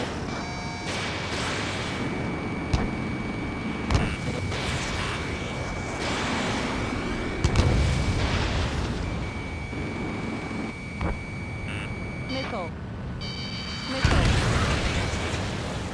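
Missile blasts in Ace Combat 7 during a team deathmatch with an Su-37, heard as dull booms and pops over a constant jet roar, with repeated high lock-on warning tones cutting in and out.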